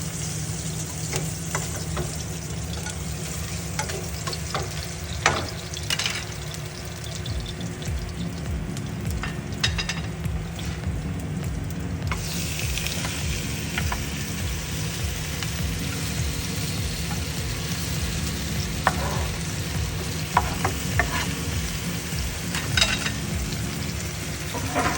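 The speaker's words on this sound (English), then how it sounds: "We'll saute the meat." Marinated pork ribs sautéing over high heat in a pan for black bean pork ribs, with a steady close sizzle and occasional stirring scrapes running throughout, and no talk.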